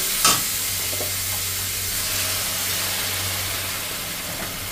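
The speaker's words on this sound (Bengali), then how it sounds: "এটাকে ভালো করে কষিয়ে নেব। অল্প সামান্য একটু জল দেব।" Garlic masala with grated ginger and chopped garlic sizzles steadily in a pan as a small splash of water goes in, a continuous loud hiss with a brief sharp burst near the start.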